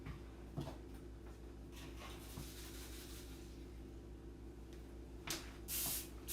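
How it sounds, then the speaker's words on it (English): Quiet kitchen sounds with soft clicks, then a short hissing burst of cooking spray onto a pan near the end. "Do we need to spray this pan? You do."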